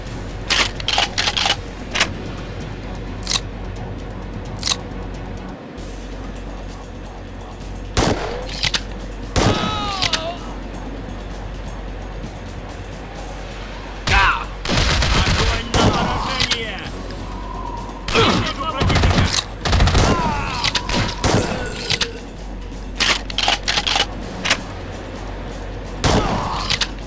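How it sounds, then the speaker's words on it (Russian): Shootout in a first-person action video game: repeated loud bursts of gunfire and sharp crashes, coming in clusters across the whole stretch with short pauses between volleys. "Контакт! Стреляй!"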